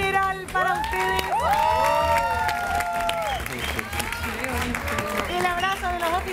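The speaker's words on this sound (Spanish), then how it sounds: "Un aplauso general para ustedes." A studio audience at the final of a televised cooking competition applauds and cheers, with clapping and whoops under loud, sustained background music throughout.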